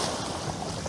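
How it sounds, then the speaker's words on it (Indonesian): Sea surf rolling in on the shore, a broad continuous rush of water mixed with wind buffeting the microphone, loud and close with no speech. "kita sekarang berada di depan laut"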